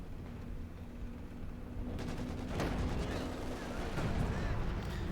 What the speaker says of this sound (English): Rocket strike there, wipes Shadics' remaining field gun crew there